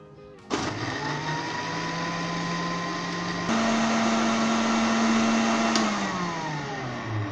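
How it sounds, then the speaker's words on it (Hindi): A countertop blender whirs steadily as it purées kiwi, strawberry and banana into a smoothie. The motor hum is loud and close, jumps to a higher pitch partway through, then winds down near the end. "चलें दोस्तों इसे ब्लेंड करते हैं"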